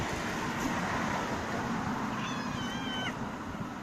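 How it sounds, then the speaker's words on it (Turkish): A cat meows a few times at a köfte restaurant in Beykoz, Istanbul, drawn-out and plaintive, over a steady outdoor hum of traffic and street noise. "E, kedi de sizden köfte istiyor."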